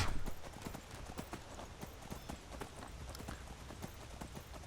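Horse hooves clip-clopping in a quick, steady galloping rhythm on a bridge, close and continuous for several seconds, from the video game Skyrim.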